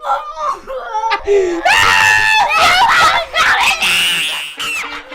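Several girls scream loudly and shrilly at close range during a prank, in long overlapping bursts mixed with shrieking laughter and whimpers.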